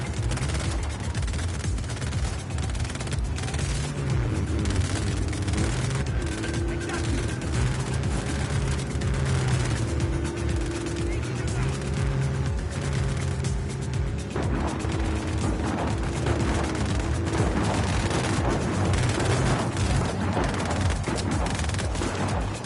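Gunfire aimed at a van in the video game Just Cause 4, a dense, loud, continuous barrage of shots layered over steady game engine noise and music throughout.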